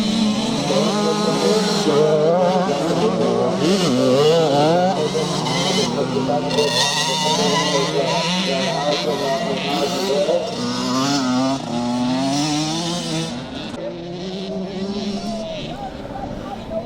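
Classic scramble motorcycles, among them a small KTM, race across the start and finish line, a dense overlapping chorus of revving two-stroke engines rising and falling, with a commentator talking throughout.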